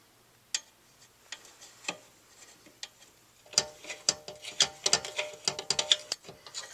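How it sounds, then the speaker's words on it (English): Small Phillips head screws are driven to mount a car computer under the dashboard, producing a scatter of faint clicks at first, then a denser run of quick ratcheting ticks and scrapes close by. "The computer screws in with the little Phillips head screws."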